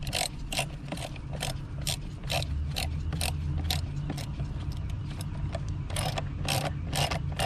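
A hose clamp on the airbox of a 2002–2011 Toyota Camry being tightened by hand, giving a steady run of small close clicking and ratcheting taps with light metallic rattle, no voices.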